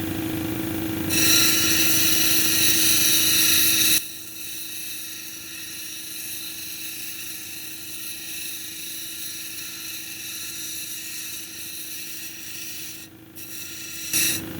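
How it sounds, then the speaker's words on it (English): A red jasper cabochon is ground against spinning lapidary wheels, giving a steady close whirring rasp with a louder, brighter stretch at the start and then a softer, even grind until it ends. "we're going to come in at a 45-degree angle and just start grinding around until we can start going over the top"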